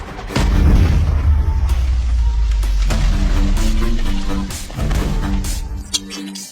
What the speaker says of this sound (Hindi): एजेंट को मात नहीं दे सका तो उसने बम फेंक दिया।